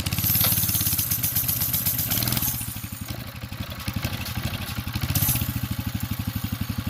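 A mini bike engine built for a Gambler 500 endurance race idles while warming up in the cold, a loud close rapid putter with steady rattle and slight surges in pace.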